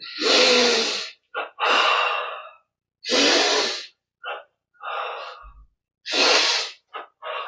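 Deep breaths during a yoga breathing exercise, close and clear: several strong airy inhalations and exhalations in a slow rhythm, with brief short sniffs between them and no talking.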